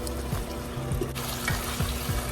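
Pork ribs sauté in a pan with their fat rendering, giving a close, steady sizzle and crackle with occasional scraping stirs, no voices.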